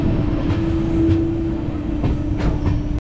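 Steady rumble of a new train running, heard from inside a carriage, with a constant low drone and hum and faint rhythmic wheel clatter throughout, loud and continuous.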